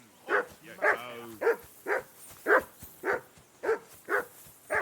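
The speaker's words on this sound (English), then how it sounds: "I assume you can hear that damn dog of yours barking." Dog barking in the video game Kingdom Come: Deliverance 2, a steady series of about nine sharp barks at even intervals, clear and moderately close with no talk over it.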